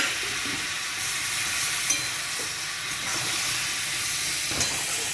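Water goes into a hot pan of jhinge posto, ridge gourd with haldi and salt, setting off a steady broad sizzle and steamy hiss that holds throughout, with a few soft clinks of stirring and no talking.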